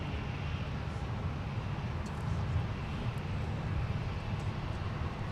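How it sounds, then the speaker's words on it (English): A Boeing 787-9 Dreamliner bound for Amsterdam takes off at Minneapolis–Saint Paul airport, a steady broadband jet roar with a low rumble that holds level throughout, heard from a distance with no voices. "Beautiful takeoff from the 7879 Dreamliner, headed to Amsterdam"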